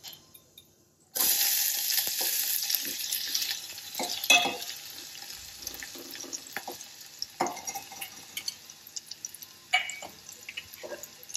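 Chopped onion hits a pan of hot oil with cumin, and a sudden loud sizzle breaks out after a brief quiet start, then settles into steady frying with occasional scrapes of stirring.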